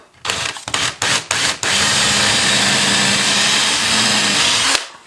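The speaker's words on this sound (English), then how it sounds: "we'll drill a pilot hole through" A power drill drilling a pilot hole starts with a few short stuttering bursts, then runs steadily with a loud whining buzz for about three seconds before stopping abruptly.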